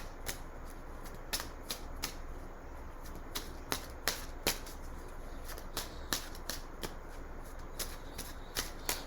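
Tarot cards being shuffled by hand, a run of crisp close riffles and slaps in an uneven rhythm over a quiet background, with no talking.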